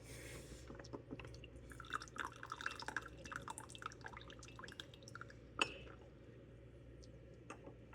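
Tea overflows from a traditional Japanese ceramic cup, giving scattered soft drips and small wet ticks with the occasional clink of ceramic. The sounds are close but quiet over a low background hum.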